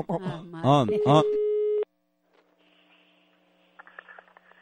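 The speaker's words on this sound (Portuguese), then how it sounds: "Tá chamando, tá chamando." A voice speaks briefly, then a telephone line tone sounds on a prank call, a flat steady beep that cuts off into quiet line noise with faint background sounds.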